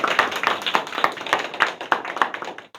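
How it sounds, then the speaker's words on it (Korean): Small group clapping rhythmically in unison to welcome a speaker at a labor union meeting, close and fairly loud, roughly three claps per second until it stops abruptly. "힘찬 동지 박수로 우리 김태현 동지 모시겠습니다"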